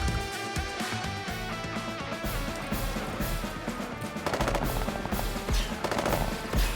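Units open fire in Advance Wars 1+2: Re-Boot Camp, a rattling stretch of rapid machine-gun-style shots layered over upbeat game music, fairly loud throughout.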